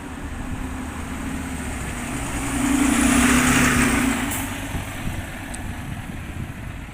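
A large diesel engine of a First South Yorkshire bus in Sheffield runs steadily at a stop, swelling louder in a brief rev midway before settling back to a rumbling idle; the bus appears broken down.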